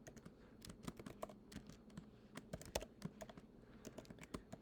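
Code is typed quickly on a computer keyboard in a steady stream of close, light key clicks with a few heavier taps, quiet and without speech.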